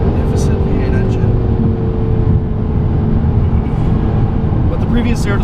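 Deep, steady V8 roar from a 2016 Jaguar F-Type R AWD during a launch run, loud and continuous with rumbling low end and faint chirps toward the end.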